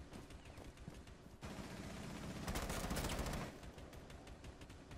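Gunfire in Rainbow Six Siege aimed at windows: a steady run of sharp shots that swells into a heavier, denser volley in the middle before settling back to separate shots, fairly distant and subdued, with no voices.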